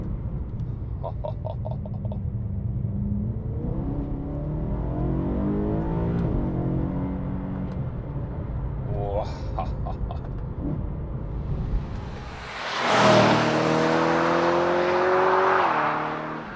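BMW E92 M3 GTS with its 4.4-litre V8 driving on an open road, a steady engine drone with shifting tones as it pulls through gears, building into a louder surge of revs near the end, with occasional talk over it.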